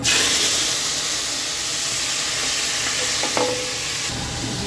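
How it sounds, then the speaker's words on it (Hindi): Boiled, peeled tomatoes drop into hot oil in a cooking pot for desi-style noodles, setting off a loud, close, hissing sizzle that runs continuously and eases slightly toward the end. "अपने ऑयल के अंदर एकदम डालो तो थोड़ी आवाज़ आती है, थोड़ा ऑयल आवाज़ करता है।"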